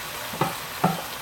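Sliced mushrooms and onions cooking in a pan as a barbecue side dish, a steady soft sizzle with two brief stirring scrapes about half a second apart, close and without talk.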